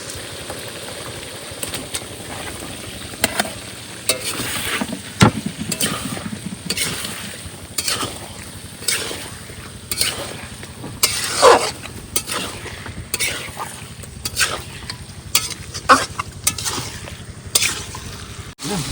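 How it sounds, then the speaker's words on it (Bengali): Meat poured into a pan of fried spices, giving a rough sizzle broken by repeated scraping and clattering stirs at an uneven rhythm, close and fairly loud. "সমস্ত মশলা সুন্দর করে ফ্রাই করে নিয়েছি এবার দেবো মাংসটা ঢেলে"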